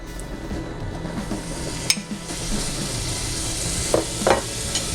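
Olive oil and butter heat in a pan for mushrooms, a continuous crackling sizzle with a few sharp spatters and a light scrape of stirring, close and steady.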